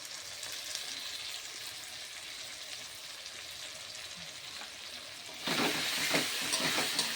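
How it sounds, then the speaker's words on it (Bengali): Slit green chillies and ginger paste sauté in hot oil, a steady close sizzle that swells louder near the end as more goes into the pan, with no talking. "চেরা কাঁচা লঙ্কা আর এই যে একটু আদা বাটা দিয়ে এবার ভালো করে কষিয়ে নেব।"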